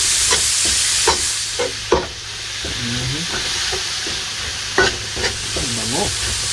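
Onions sizzle in a hot pan while being stirred, with a steady frying hiss punctuated by scraping and clinking utensil strokes at close range.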